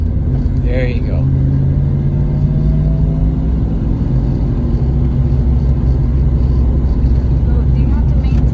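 Manual-transmission car engine idling and pulling during a shift into second gear on a driving lesson, a steady low rumble filling the whole stretch with a brief voice early on.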